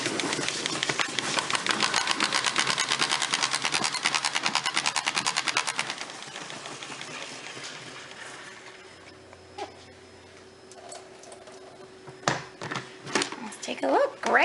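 Washed kale whirls in a salad spinner, a steady rapid rattling whir that runs loud for several seconds, then slows and fades, followed by a few light clicks and handling knocks.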